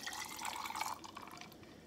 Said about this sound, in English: So we're gonna pour it over ice.